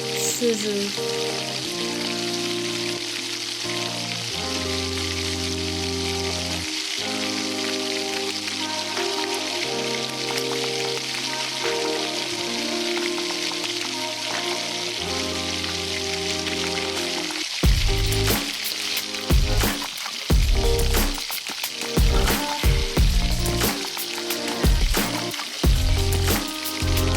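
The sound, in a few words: sabudana punugulu frying in hot oil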